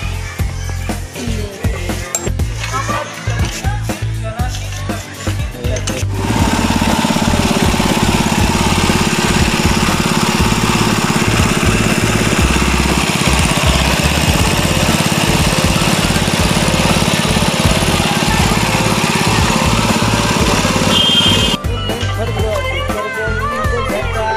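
A sattu grinding mill mounted on a motorcycle runs in a village setting, a loud steady engine drone with a grinding rattle that starts abruptly and cuts off near the end, with people talking before and after.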